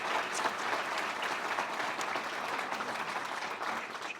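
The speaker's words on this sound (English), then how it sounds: "Let's give them a round of applause." Steady applause from a breakfast audience honoring volunteer drivers, many hands clapping at an even, dense level throughout with no voices standing out.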